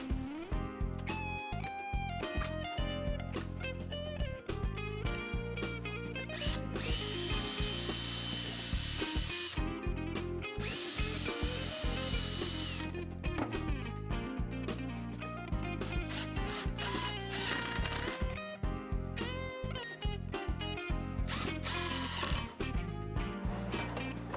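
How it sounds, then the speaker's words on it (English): A power drill whirs in repeated bursts, pre-drilling into a wooden cabinet drawer, with a screwdriver grinding pan-head screws in between; close, continuous workshop noise with no voices. "I can pre-drill and drive some panhead screws"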